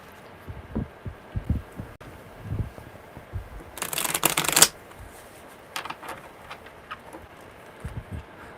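A quick, crisp riffle of tarot cards being shuffled close by, surrounded by soft taps and handling noises.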